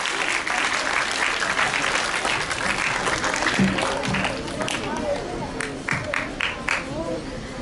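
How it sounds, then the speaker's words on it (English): Audience applause for the teams at a school interclass patriotic quiz, a full wash of clapping from many hands that thins toward the end with scattered individual claps. "A huge round of applause for all the teams"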